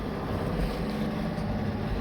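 A sailing boat motors under engine power through the Wash off the English coast between Grimsby and Wells-next-the-Sea, a steady low engine drone blended with rushing wind and water noise, with no voices.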